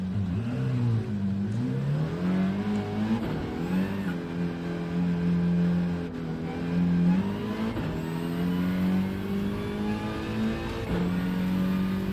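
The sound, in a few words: Volkswagen Scirocco race car engine revving in racing video game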